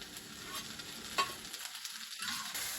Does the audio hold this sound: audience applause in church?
no